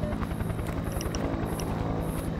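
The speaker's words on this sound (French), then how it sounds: "Grosse lumière dans la nuit, hélicoptère, on entend quand même." A helicopter flies overhead in an alien abduction video game at night, a steady loud rotor drone with low pulsing thump and whining high tones, continuous for the whole stretch without speech.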